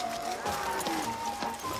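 Horse hooves clip-clop at a steady walking pace on a countryside ride, heard under a continuous musical tone and faint background, with a voice briefly present.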